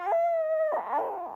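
A dog howls in one long, steady, pitched note lasting over half a second, then breaks into a rougher, wavering yowl, loud and close with no talk over it.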